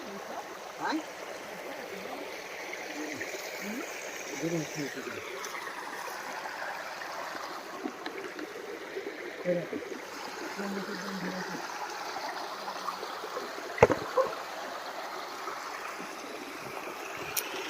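Steady rushing of a river stream flowing continuously in a village, with a soft broadband wash and occasional louder splashes, fairly close.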